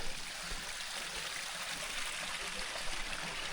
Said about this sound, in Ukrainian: Трішки там, трішки там виходить струмочок.